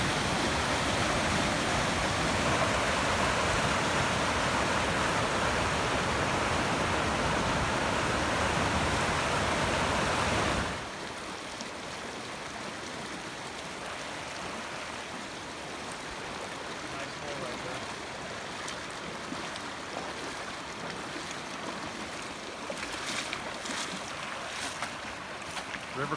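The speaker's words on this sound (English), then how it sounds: "it's the drainage from Deadman Canyon. It's really running strong." Meltwater drainage from Deadman Canyon, running strong in early August after a heavy snow year, makes a loud, steady broadband rush for about ten seconds, then drops to a softer, more distant flow.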